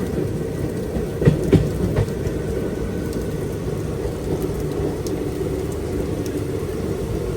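A downpour beats on a moving express train near Koduru, heard from inside the coach as a continuous broad rush, with a few brief knocks and rattles rising through the din.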